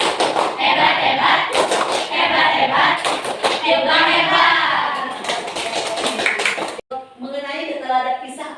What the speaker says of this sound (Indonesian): Kita beri tepuk hebat untuk Julfa.